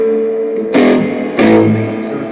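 An electric guitar plays through a Vox AC15 amp with a distortion pedal, giving two loud, gritty strummed chords that ring out and sustain.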